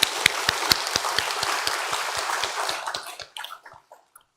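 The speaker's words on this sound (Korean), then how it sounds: "서로 축복하며 박수해 주시겠습니다." Congregation applause at a Sunday worship service, thanking the praise team and choir: dense, steady clapping from a large gathering that thins into scattered claps and fades out over the final second.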